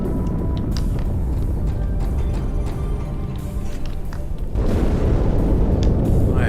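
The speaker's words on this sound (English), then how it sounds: "That explosion." A heavy in-game explosion in Halo 2 rumbles as a dense, loud low-end roar throughout, swelling stronger in the final second and a half.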